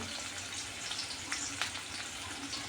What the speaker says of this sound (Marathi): छान अशी 1-2 मिनिटं आपल्याला डाळ छान तेलात परतून घ्यायची आहे। आणि आता मी घालणार आहे कांदा।